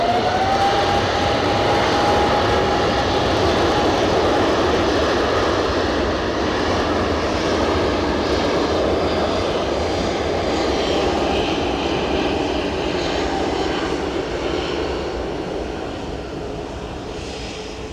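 A Qatar Airways airliner at Edinburgh Airport roars loud and steady for the whole stretch, a high whining engine tone riding on top early on, the noise easing slightly toward the end.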